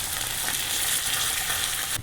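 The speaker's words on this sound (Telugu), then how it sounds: "ఇలా వింగువ కూడా వేసుకొని కరివేపాకు వేసి వేయించుకొని" Asafoetida and curry leaves frying in hot tempering oil for a black gram chutney, giving a steady, close, dense sizzle that holds level throughout with no talking.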